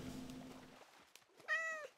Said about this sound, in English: I found a putty cat.